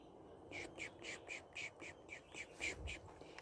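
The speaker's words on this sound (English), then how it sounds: "I don't know if you can hear the baby birds off in the distance." Baby birds call off in the distance outdoors, a rapid series of about a dozen thin, high chirps repeating at a steady rhythm, faint over quiet background rumble.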